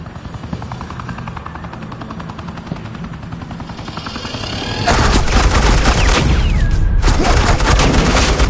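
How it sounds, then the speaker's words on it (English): Suppressing fire from Agent Quinn in a Batman game scene, a dense sustained burst of gunfire kicking in midway and running on loudly to the end, over a steady helicopter rotor drone that fills the whole scene. "This is Agent Quinn, suppressing fire."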